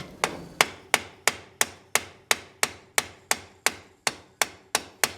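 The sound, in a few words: tapping on a lawn mower carburetor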